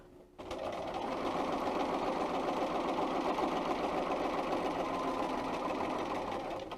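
A Bernina 930 sewing machine stitches a fabric seam, its motor whirring in a loud, steady, close mechanical drone with a fast needle rhythm, starting abruptly and running without pause.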